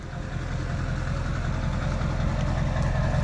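Duramax diesel pickup truck engine idling up close, a steady low rumble with exhaust noise and no speech over it.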